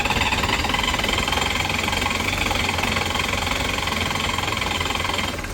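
An old cast iron inboard engine on an abandoned Cheoy Lee sailboat runs after cranking and firing, a loud, steady knocking chug close by with no voices, easing slightly at the very end.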